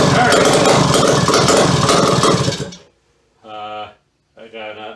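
A Suzuki K11 engine with no throttle and choke off runs loudly for nearly three seconds with a dense mechanical clatter, then cuts out, followed by two short bursts of harmonic sound from a restart attempt.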